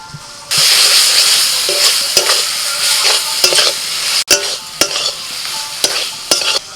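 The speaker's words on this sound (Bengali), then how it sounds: "মশলা কষানো হয়ে গেছে এবার ভাজা ঢ্যাঁড়সগুলো দিয়ে দিচ্ছি" Fried okra is stirred into a cooked spice masala in a hot pan, producing a loud, steady sizzle broken by repeated sharp scrapes and knocks of the spoon, close and alone.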